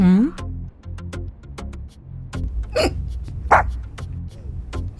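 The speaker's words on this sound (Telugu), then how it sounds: "ఏమైంది? ఎక్కిళ్ళు వస్తున్నాయా ఆంటీ?" A series of sharp, abrupt hiccups from a woman repeats irregularly up close, mixed with short vocal sounds and breathy noises.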